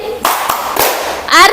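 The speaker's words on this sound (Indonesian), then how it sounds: "Kita sama-sama tepuk atin." Schoolchildren in a classroom clap the Tepuk At-Tin rhythm together, a few sharp group claps spaced out in a short pattern, close and loud, with a voice calling out near the end.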